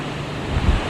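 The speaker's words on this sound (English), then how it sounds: "the wind is whipping wildly right now" A short, heavy gust of wind during Hurricane Milton, a broad buffeting roar battering the microphone with low thumps that peak near the end, with no talking.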